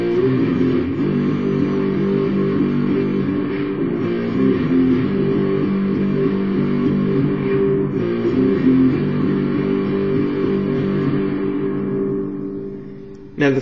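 Electric guitar strums the chord progression of a song, sustained chords ringing steadily with a slightly effected tone, close and alone with no talking.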